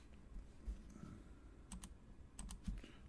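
Someone types on a computer keyboard at a console during an install that boots from a mounted ISO image. The keystrokes come as faint, sparse clicks, including a few sharper pairs, under a low room hum.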